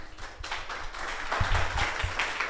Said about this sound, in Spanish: démosle un fuerte aplauso a Giovanni.